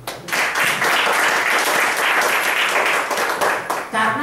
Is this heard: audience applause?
yes